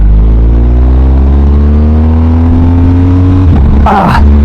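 BMW R 1250 GS motorcycle engine running steadily at constant revs, loud and close, with a brief clunk and whoosh near the end as a gear shift is attempted.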